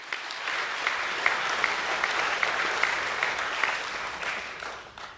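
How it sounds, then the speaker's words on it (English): Audience applause at an academic awards presentation evening, a steady round of clapping from the crowd lasting several seconds before fading out, moderately loud with no talk. "you can give him a round of applause."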